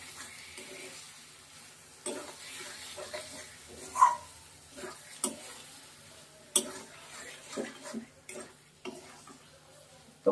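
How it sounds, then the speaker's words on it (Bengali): Fish frying in a pan with spices is stirred with a spatula, giving scattered, sharp scraping clicks and knocks over a faint sizzle. "এবার খুন্তি দিয়ে নাড়াচাড়া করে করে এর সঙ্গে মশলার সঙ্গে মাছটাকে সুন্দর করে ভাজা ভাজা করে নেবো।"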